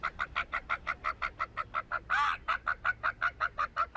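A man imitates a chicken with a rapid, steady run of clucking pulses, about four per second, broken once by a longer squawk in the middle.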